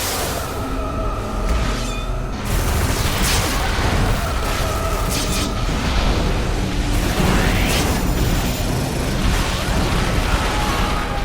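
Bombs explode in a superhero action video game, a continuous dense barrage of loud bursts, booms and mechanical clatter filling the whole stretch without pause.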